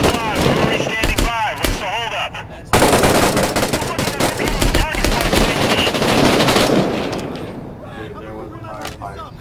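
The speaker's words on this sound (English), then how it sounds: "firefight galore" Rapid bursts of machine gun fire in a video game firefight, loud and dense with overlapping shots and echoes, while players talk over the gunfire throughout.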